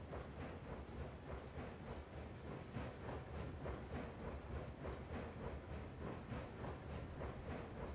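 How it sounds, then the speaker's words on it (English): Long freight train hauled by a double-header of steam locomotives in the RAILROADS Online game, a steady rumble with rhythmic clickety-clack of car wheels rolling over rail joints, continuous and moderately distant. "It's a crazy long train"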